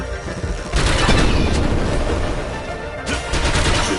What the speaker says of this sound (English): See the explosion that came off with it?